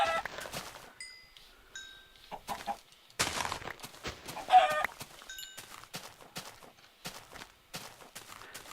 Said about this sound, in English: And chickens right here at the spawn.